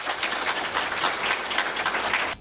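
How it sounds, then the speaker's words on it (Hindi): Applause from a group at a yoga and diet training camp session, a dense steady patter of many hands clapping together, moderately loud and continuous before cutting off at the end. "सबके लिए एक बार जोर से ताली बजाइएगा।"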